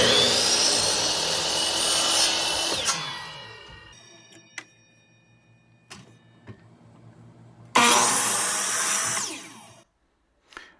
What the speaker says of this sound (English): Now we want to measure and cut out our connecting dowels.